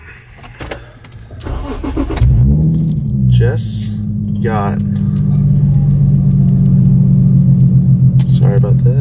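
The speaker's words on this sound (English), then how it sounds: "little kid just turned on the exhaust right behind" A car's exhaust starts up and keeps running close behind, a loud steady low rumble after an engine start, with someone talking over it.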